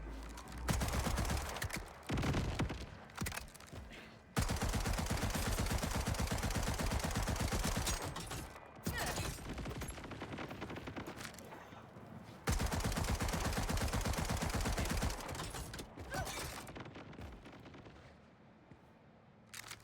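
Submachine gun fire in Borderlands 4 comes in long, loud, rapid bursts broken by brief pauses, with each burst a dense rattle of shots and no speech.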